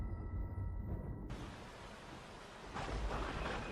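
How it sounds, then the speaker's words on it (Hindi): Heavy rain pours steadily as a dense roar, with a deep thunder rumble swelling and a fresh surge of downpour near the end. "बाहर बहुत जोरों की बारिश थी।"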